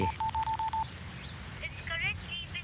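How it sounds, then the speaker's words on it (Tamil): A telephone keypad sounds six or seven short, evenly spaced DTMF tones as a number is dialed, clear and close, and then a few whistly chirps follow as the tones stop. Wind noise runs under them. "ஃபோன் நம்பர் டைப் பண்ணு"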